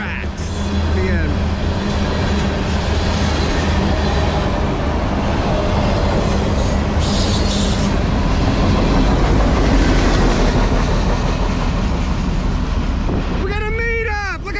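A long freight train with auto racks rolls past nearby in a continuous loud rumble of wheels and rattling cars, and someone speaks excitedly near the end.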